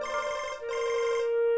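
A mobile phone ringtone plays a steady, tonal electronic melody, loud and close, with no talk over it.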